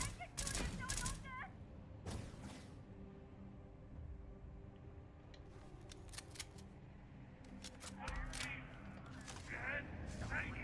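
Enemy gunfire aimed at the player in Starfield: sharp, close cracks and bursts of shots arrive in scattered clusters, early, midway and toward the end, mixed with game effects while a voice talks over them.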